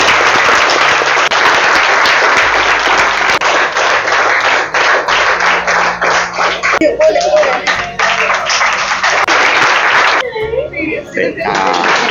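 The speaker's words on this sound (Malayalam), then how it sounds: "അപ്പോൾ എല്ലാവരും ഒരു ബിഗ് ക്ലാപ്പ്" A room of students bursts into a big round of applause at a celebration, loud and sustained clapping with some laughter, thinning out near the end.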